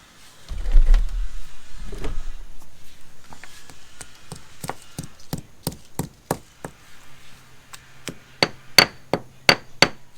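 An anchor is hammered into a drilled hole in a wall, a series of sharp metallic taps that start sparse after some low thumps, then quicken into a steady, close rhythm of strikes.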